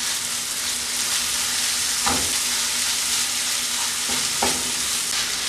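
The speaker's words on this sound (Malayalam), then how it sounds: "ഇനി ഇത് ചേർത്ത് നന്നായിട്ടൊന്ന് കുക്ക് ചെയ്തെടുക്കാം. ചെമ്മീൻ മസാലയായിട്ട് നന്നായിട്ട് മിക്സ് ചെയ്ത് കൊടുക്കുക." Minced prawns and masala fry in a pan, a loud, steady hiss of sizzling with a few soft stirring scrapes near the middle and end, heard close and alone.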